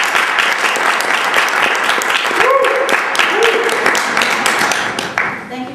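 Applause from a Toastmasters club audience after a speech is introduced, dense steady clapping lasting about five seconds with a few voices underneath, then tapering off at the end.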